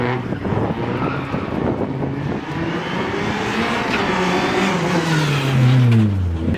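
A 1973 Chevrolet Corvette C3 at a rally event revs loudly nearby, its engine pitch rising and falling through the clip, with a swelling rev toward the end.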